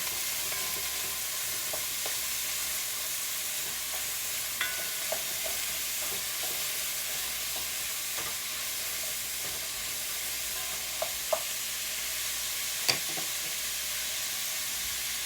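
Food sautéing and being stirred in a pot for coconut dumplings, a steady broadband sizzle running throughout with a few brief scraping clinks of the stirring utensil, close and even, no voices.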